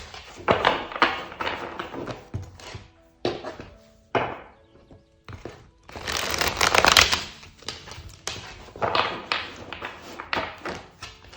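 Tarot cards shuffled by hand in repeated riffling and tapping bursts, close and fairly loud, with short pauses between rounds and no talking.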